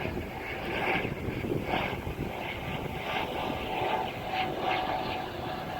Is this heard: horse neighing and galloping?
no